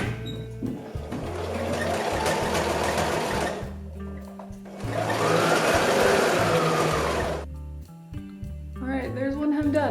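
Sewing machine stitching a hem on a gingham pant leg, running in two long steady bursts of loud close whirring with brief pauses between, then stopping.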